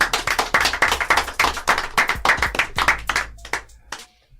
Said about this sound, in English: Can we clap it up for Nelly Protoolz in the building